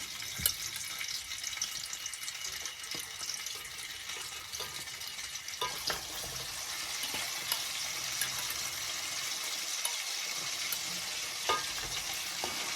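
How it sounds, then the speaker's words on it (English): Soft, steady sizzle and crackle of food gently frying in palm oil, quiet and continuous with occasional small pops. "allow this palm oil to heat up a bit. So guys, we're just gonna gently fry."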